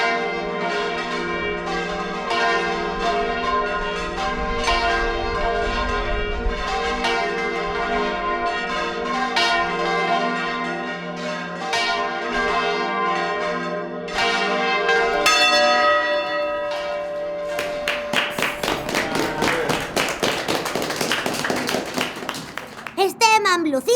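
Church bells peal from the Albaida bell tower, played by hand by local bell ringers: dense, overlapping resonant strikes ring continuously, then build to a faster, louder clangor of many bells near the end.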